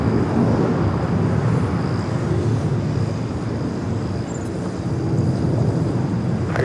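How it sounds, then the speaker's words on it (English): An All Nippon Airways Boeing Dreamliner in Star Alliance livery arrives on runway 24 right at LAX, its steady, loud jet engine roar rumbling continuously with a broad rushing noise. "All Nippon Airways ANA in the Star Alliance livery Dreamliner about to arrive on 24 right"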